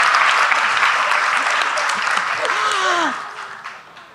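Loud, dense applause from the audience at an evening panel on plural feminisms, sustained for about three seconds before tapering off, with a faint voice heard near the end.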